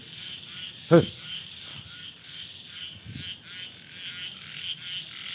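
Frogs croak in a forest at night, a faint, steady chorus mixed with insect buzz. One sharp louder knock or call stands out near the start, and a soft voice is heard briefly.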